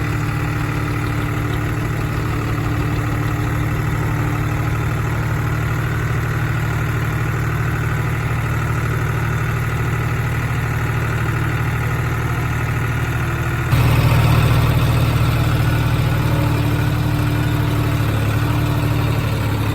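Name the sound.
two-cylinder tractor engine idling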